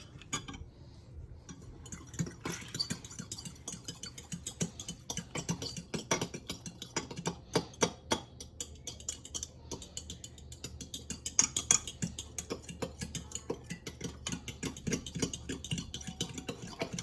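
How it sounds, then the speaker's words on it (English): Eggs are whisked with a fork in a bowl, giving a steady run of quick light clinks and scrapes with short pauses, close by and fairly quiet, with no talking. "now give the eggs a really good mix with that fork"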